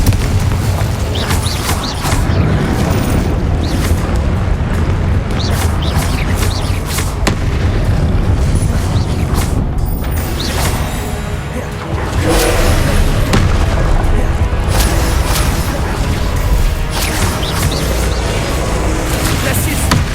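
Repeated booming blasts from the Confringo fire spell in Hogwarts Legacy burst over continuous game sound, with dense crackling impacts and a brief lull midway before the explosions resume.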